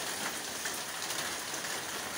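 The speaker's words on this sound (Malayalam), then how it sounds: "അപ്പോഴത്തിന് ഇതേ വീണ്ടും മഴ ഒക്കെ ഇങ്ങനെ പെയ്തുകൊണ്ടിരിക്കുകയാണ്" Steady heavy rain pours on a rainy day around a home garden with potted plants, a constant even hiss of falling water, fairly soft and with no voices.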